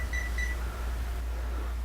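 A camera's two-second self-timer gives two short, high, electronic beeps close by, over a steady low hum, followed by quiet.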